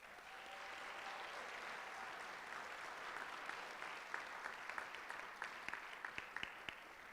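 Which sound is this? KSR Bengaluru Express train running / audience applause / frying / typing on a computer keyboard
audience applause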